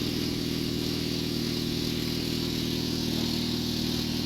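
A motorcycle with a worn-out, weak battery runs in a steady, loud, continuous engine drone that stays close and unbroken throughout.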